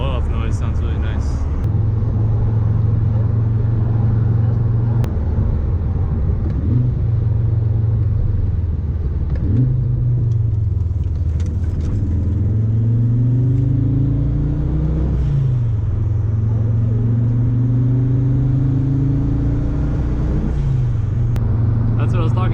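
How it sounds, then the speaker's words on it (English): A Golf R engine revs hard and drops between gear changes, with a turbo blow-off whoosh after the shifts, loud and close throughout. "Blow off noise sounds really nice."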